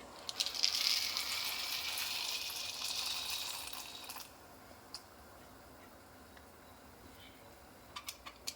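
A bright rushing hiss of dry macaroni pouring into a pot of boiling water lasts about four seconds, then gives way to quiet bubbling with a few small clicks.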